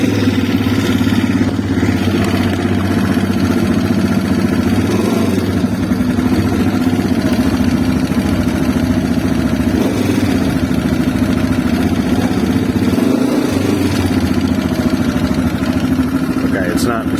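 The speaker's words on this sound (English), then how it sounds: "So I'm going to try to fire it back up." CSC RX3 motorcycle engine running in a steady, loud mid-pitched idle with a throttle that is not adjusted, a continuous rumble with slight clatter and small surges throughout.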